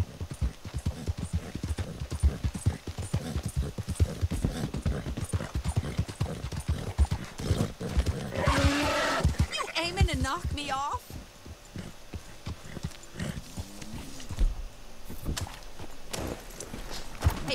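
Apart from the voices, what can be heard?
horse hooves clip-clopping in video game Red Dead Redemption II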